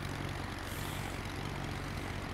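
A small propeller plane's engine drones steadily in flight, a loud, continuous, unbroken rumble that fills the whole stretch with no pauses or voices.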